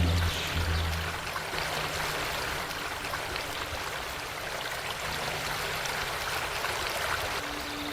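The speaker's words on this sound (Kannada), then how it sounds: "ಆನೆಯೊಂದು ಕೊಳಕ್ಕೆ ಇಳಿದು ನೀರು ಕುಡಿಯುತ್ತಿರುವ ಹಾಗಿದೆ" Water sloshes and splashes in a pond with a steady, rushing wash of sound that stays fairly even and close, with no voices.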